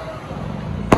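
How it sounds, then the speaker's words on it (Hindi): A single sharp firecracker bang during Diwali celebrations goes off near the end of a short stretch of low street rumble, loud and abrupt against the quieter background. "अभी भी कुछ लोग यहाँ पर पटाखे छोड़ रहे हैं"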